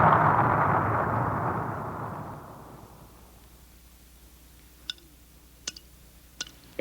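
A firecracker explosion slowed down 1,200 times, heard as a long, deep rumbling boom that slowly fades out over several seconds, followed by a few sparse, sharp ticks.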